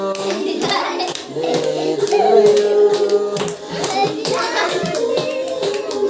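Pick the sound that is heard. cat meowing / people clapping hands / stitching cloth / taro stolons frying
people clapping hands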